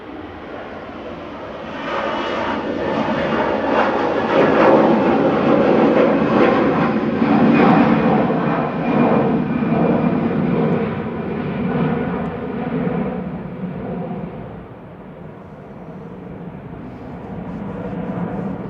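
A Ryanair jet airliner moves at Manchester Airport, giving a steady, broad engine roar that swells in the middle and fades slightly toward the end, with no talk over it.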